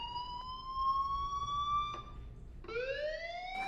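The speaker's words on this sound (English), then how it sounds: "do you hear that fire alarm? That means you should be outside." Alarm in Life is Strange Remastered, a sustained electronic tone that rises slowly and holds, with a brief click, then restarts as a louder upward sweep, alone at moderate volume.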